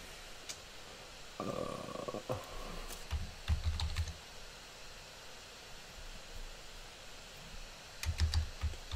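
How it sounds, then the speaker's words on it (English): A password being typed on a computer keyboard, with quiet, close key taps in a short burst, then a pause and another cluster of clicks over faint room noise. "I'm going to go ahead and put in my password"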